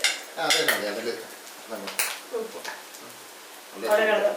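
Grated coconut stirred in a hot stone pan (kalchatti) for brinjal thoran, with scraping and clinking of a spoon against the pan in short bursts, a voice talking over much of it.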